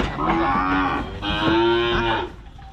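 A young cow moos repeatedly in long, loud, close calls while being loaded onto a truck for delivery, with livestock handling noise underneath.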